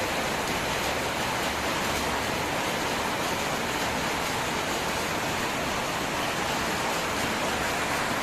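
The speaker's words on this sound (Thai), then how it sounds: "ฟังเสียงฝนครับ" Heavy rain pours down in a rural Thai village at the start of May, a dense, even roar that continues unbroken and loud with no voices.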